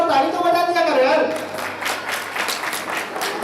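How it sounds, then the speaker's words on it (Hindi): Audience clapping in a classroom gathering, dense applause rising after a brief spoken line at the start and continuing at moderate loudness to the end. "थोड़ा ताली तो बजा दिया करो यार"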